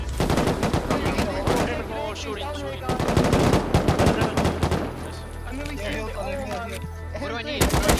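Dense automatic gunfire in the Rust video game, rapid rifle bursts and heavy volleys crackling nearly nonstop at close range, with excited voices talking over the shooting.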